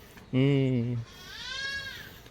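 A goat lets out one loud, close, wavering bleat lasting under a second, followed by a fainter, higher bleat further off.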